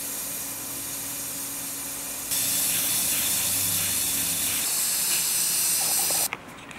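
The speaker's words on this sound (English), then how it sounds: "I'm gonna spray paint some black in there and this blue" A spray paint can hisses steadily and loudly up close while painting a scooter helmet, the spray growing stronger partway through before cutting off abruptly near the end.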